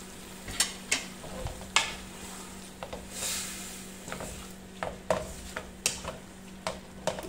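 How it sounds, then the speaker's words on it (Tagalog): Bihon rice noodles being stirred in a frying pan over a steady low sizzle, with about a dozen distinct scraping, tapping strokes of a utensil against the pan in an irregular rhythm. "Ayan, haluin natin ang ating bihon."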